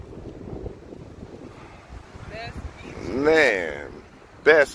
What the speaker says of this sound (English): It's a little breezy, but it's beautiful.